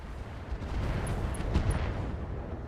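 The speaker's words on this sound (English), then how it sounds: "Missile barrage." Missile barrage explosions in a video game rumble as a continuous low roar of overlapping booms, swelling slightly in the middle, with a few faint high pings on top and no voices.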